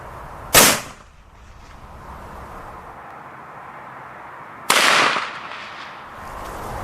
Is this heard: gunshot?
yes